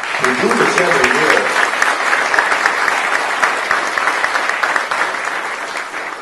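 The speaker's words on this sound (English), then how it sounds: "A quick round of applause for the Norwegian American Chamber of Commerce and the Seattle Golf Club" An audience at a Julebord holiday banquet at the Seattle Golf Club applauds steadily, loud dense clapping filling the room from start to finish, with some voices mixed in.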